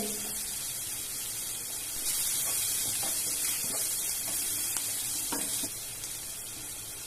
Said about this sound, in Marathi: कांदा लसूण चांगला परतून घेतल्यानंतर आता त्यामध्ये मी कढीपत्ता टाकते